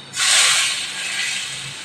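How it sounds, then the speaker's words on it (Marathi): Hot asafoetida tempering poured onto raw mango chutney gives a sudden loud sizzling hiss that peaks quickly and then settles into a steady, softer crackle for the rest of the moment, with no talking. "आणि ही फोडणी आता मी या चटणीवर"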